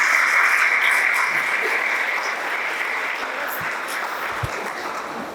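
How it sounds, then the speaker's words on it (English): An audience at a school valedictory ceremony applauds in a dense, steady wash of clapping that is loud from the start and eases slightly toward the end, with no voices over it. "Can we have a huge round of applause for our chemistry?"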